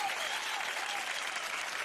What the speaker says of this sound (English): And you deserve an applause.